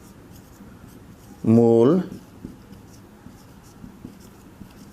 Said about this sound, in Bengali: এবার আমরা সুন্দর করে লিখব